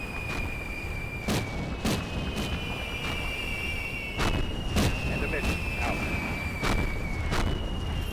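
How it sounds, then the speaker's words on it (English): Mortar shells land in Combat Mission Battle for Normandy, a US Army versus German Heer match, making several sharp broadband impacts at irregular intervals over a steady ambient bed with a faint high whine. "And that's my initial mortars coming in."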